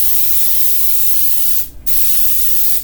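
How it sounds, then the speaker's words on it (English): Continuous loud hiss of cooking spray on a baking pan, broken by one short pause before spraying resumes, close by. "I'll go ahead on and spray my pan."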